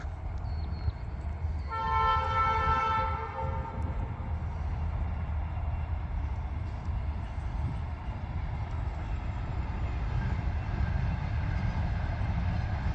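A train rumbles steadily past at a distance while its horn sounds one sustained blast near the start, then the low rolling noise continues alone.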